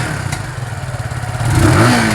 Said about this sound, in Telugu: ఎగ్జాస్ట్ నోట్ ఇచ్చేసాను